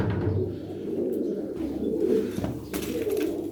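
Tumbler pigeons coo in a low, continuous rolling murmur, close and steady, with several birds overlapping and no talk.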